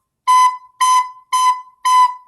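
A recorder plays a bright, steady note four times in a music lesson, each short tongued blow evenly spaced and close up, with brief quiet gaps and no voices.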